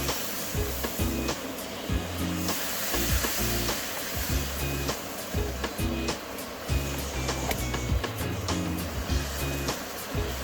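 Chana dal frying with milk in a pan for barfi, a dense continuous sizzle with bubbling and the occasional scrape of stirring, close and steady throughout.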